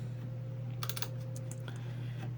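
Typing on a computer keyboard while coding an Android app, a quick cluster of key clicks midway and a few later taps, close and moderately loud over a steady electrical hum, with no talking.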